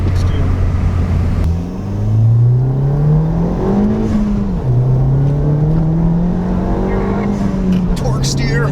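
A Ford Fiesta ST with its sound symposer deleted, heard from inside while driving: a loud engine drone rising and falling through revs and shifts, with people talking over it.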